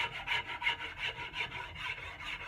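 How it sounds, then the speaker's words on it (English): Rhythmic rasping strokes smoothing a yellow birch wood handle clamped in a vise, about a dozen even back-and-forth rubs in steady tempo, close and fairly quiet. "I smoothed it up so it's nice and straight and equally rounded on both sides"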